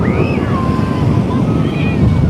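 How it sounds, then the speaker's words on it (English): Strong wind buffeting the microphone on a beach in Turkey, a loud steady low roar with surf-like rumble throughout and no pauses. "The wind has picked up quite a bit."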